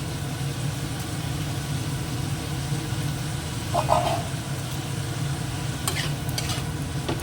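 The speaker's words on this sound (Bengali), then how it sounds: "এখন একটুখানি ভেজে নিই" Chopped green chillies and onion frying with mixed vegetables in a pan, giving a steady low sizzle and stirring scrapes throughout, with a brief clatter midway and a few sharp utensil clicks near the end.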